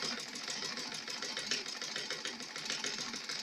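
A sewing machine runs steadily, stitching fabric ruffles with a continuous buzzing whir and a fast even rhythm, moderately loud and close, with no talking.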